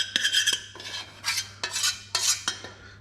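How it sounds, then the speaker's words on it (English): Honey being mixed into toasted oats for granola with a metal spoon: repeated scraping, clinking strokes against a bowl in a steady rhythm, close and clear, with no talking. "the honey's now become pliable, so we're just going to add it in, and then we're going to just mix it all together"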